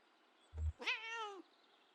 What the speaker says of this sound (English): Confident meow.